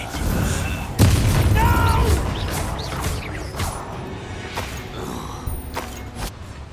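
A Bombarda spell blast in Hogwarts Legacy lands as a loud booming crash, with rumbling debris and creaking mechanisms trailing off after it.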